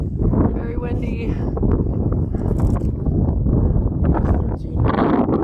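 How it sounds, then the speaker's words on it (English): Strong wind roars and buffets continuously on the Continental Divide Trail in Colorado, loud and close, with gusty rushing bursts throughout. "very windy"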